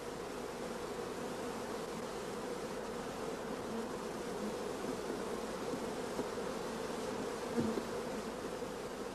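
Honey bees cover brood frames of open brood and make a dense, steady hum that goes on the whole time, close and even, with a faint brief bump near the end.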